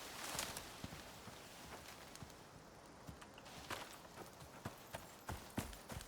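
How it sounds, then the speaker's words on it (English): Horse hooves in the video game ICARUS, a run of soft, scattered footfalls plodding at a distance over a rustling outdoor ambience, unevenly spaced with a few sharper steps near the end. "I hear walking. I think it's another horse."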